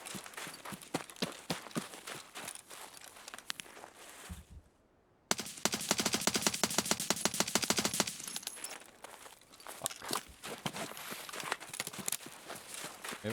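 Gunfire in Escape from Tarkov cracks out in rapid bursts of sharp shots, with a dense volley after a brief silent gap. Footsteps and quieter shots fill the surrounding stretches.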